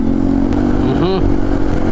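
Vespa scooter engine idling and pulling along a busy Metro Manila street, a steady close drone with a brief rising tone midway, under a voice.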